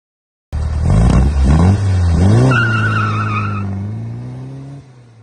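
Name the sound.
1957 oval-window VW Beetle engine running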